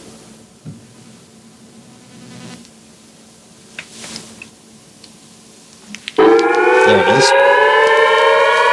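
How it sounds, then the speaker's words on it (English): A loud synthesizer tone bursts in after quiet murmuring and a brief voice, sustaining bright, harmonic-rich buzzing with gliding pitch, siren-like and steady to the end. "the first sound you'll hear was done by a Moog synthesizer on this record"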